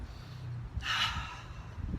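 A single sharp, quick breath drawn in, shown as a shallow vertical breath during a deep breathing demonstration, rising and falling in under a second, close and fairly faint with no talk over it.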